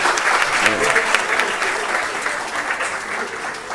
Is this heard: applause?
yes